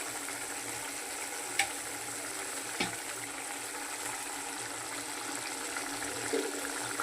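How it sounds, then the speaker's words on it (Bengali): Pabda fish slipped into a pan of simmering curry gravy for kalia, a soft, steady sizzling bubble throughout with a couple of faint clicks from the pan. "এবার আমি মাছগুলোকে দিয়ে দিচ্ছি"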